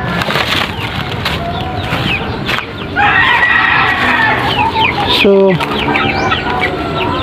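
Brooding hens cluck close to a laying nest on a Philippine backyard farm, with repeated clucks and a rooster crowing, loud and continuous; a voice speaks briefly.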